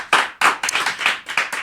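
Audience applause at a comedy show, heard as a few loud, close, separate claps in an uneven rhythm of about six sharp hits, with no talking.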